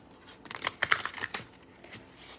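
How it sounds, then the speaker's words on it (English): A small tarot deck being shuffled gives a quick burst of close, crisp card riffles and taps in the middle, fading to quiet at the end, with no speech. "Let me shuffle."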